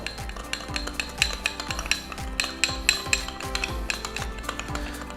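Sticky rice mixed with light soy sauce and pepper in a bowl: close, steady rhythmic clinks and soft scrapes repeat throughout without pause, with no voices.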